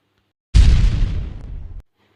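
Rock shattered by a powerful sword strike, rendered as an explosion effect: one sudden loud boom with a deep rumbling crash that decays over about a second, then cuts off to silence.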